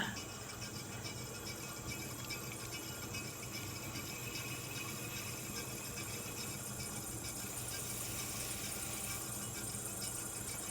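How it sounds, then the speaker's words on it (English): A pottery wheel in need of oil squeals steadily while spinning as clay is thrown into mugs, a continuous high whine over a low motor hum and faint rattle, close and unbroken. "Don't mind the squeal of my wheel."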